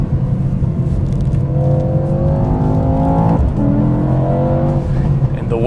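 A 2021 Mercedes-AMG E63 S with 4MATIC all-wheel drive powers hard out of a corner, its engine note climbing in steady rising harmonics, briefly dipping at a gear change, then pulling up again, loud and continuous under faint cabin noise.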